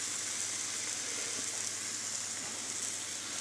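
Chips frying in oil heated to about 180 degrees give a steady, close sizzle with a dense, even hiss and no breaks, and no one talks over it.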